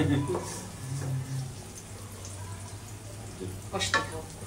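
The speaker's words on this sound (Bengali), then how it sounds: "তাই কষতে থাকো চিংড়ি মাছ, আর বড়াও ওই পাশে হইতে থাকুক" Prawns frying with spices in a pan for a Bangladeshi prawn dish, a steady close sizzle with occasional stirring scrapes and brief clatter near the end.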